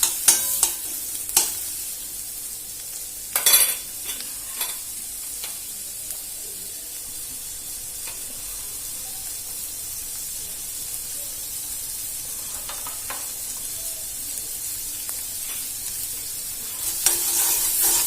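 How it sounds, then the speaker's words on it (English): Onions sautéing in a pan for pav bhaji, a steady close sizzle with louder bursts of scraping and stirring near the start and the end, with no talking. "Cook the onions for a minute or two till they become translucent"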